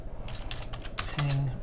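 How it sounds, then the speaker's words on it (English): Computer keyboard typing at a command prompt, a quick run of close, clicky keystrokes in a brief burst with a faint hum underneath. "So I go to command prompt and I type"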